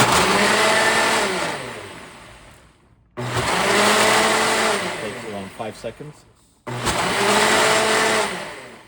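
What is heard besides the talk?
smoothie blender running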